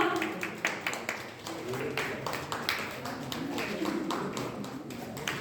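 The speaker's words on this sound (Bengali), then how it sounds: "এটা জোরে হাততালি চাইবো ওনাদের জন্য" A crowd at an anniversary prize-giving ceremony applauds steadily, dense clapping filling the whole stretch, with voices faintly mixed in.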